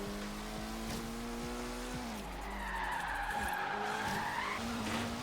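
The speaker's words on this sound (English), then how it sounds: "bit of power sliding or drifting, whatever you want to call it" A 2004 Mitsubishi Evo 8 MR power-slides in Forza Horizon 3. A steady engine drone runs under a loud, sustained tire skid that squeals through the middle of the slide, with no talking.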